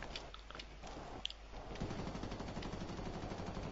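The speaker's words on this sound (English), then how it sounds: "I'm getting shot" Gunfire in the video game Ghost Recon Future Soldier: scattered shots early, then a sustained rapid burst of automatic fire from about the midpoint onward, moderately loud over a muffled game background.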